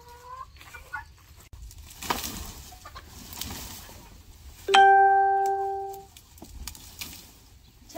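A single bird call rings out loudly with clear harmonic tones and trails off, amid faint rustling and scattered farmyard noise.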